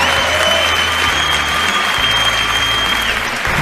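An audience claps and cheers at a barista competition after the espresso course is served, a steady burst of applause lasting a few seconds with crowd noise underneath.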